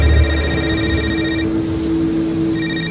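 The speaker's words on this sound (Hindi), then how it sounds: "उसी समय समीर का फोन बज पड़ा।" A mobile phone ringtone sounds as a horror story effect, a steady electronic ringing tone that carries throughout, with a brief pause in the upper tones midway before it resumes, loud and close with a low rumble beneath.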